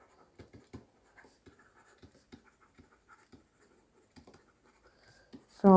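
Pen scratching across paper in short, irregular strokes with small pauses between them, close and fairly quiet, ending in a sudden louder knock.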